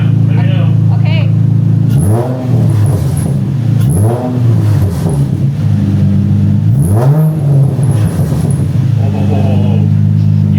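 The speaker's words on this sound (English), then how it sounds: "you can hear the backfires more too" A loud Infiniti G35 engine with a Flashark Racing exhaust revs up and down repeatedly, rising and falling in pitch close by, with crackly backfire bursts from the exhaust and people talking.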